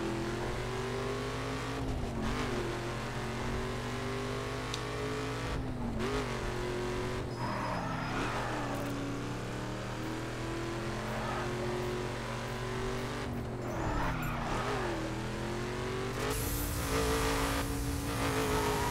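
A car speeds through Detroit streets in The Crew, its engine droning steadily and rising and falling through gear changes and revs, with occasional tire squeal and passing traffic, loud and continuous without talk.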